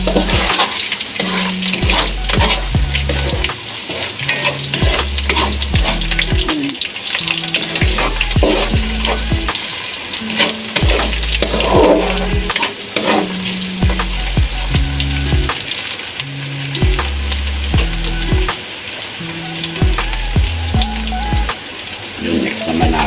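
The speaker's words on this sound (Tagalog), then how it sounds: "Yan, ilagay na yung bawang." Garlic and onions fry in a hot pan with a steady, loud sizzle and crackle, broken now and then by soft stirring and scraping knocks, running continuously with no speech.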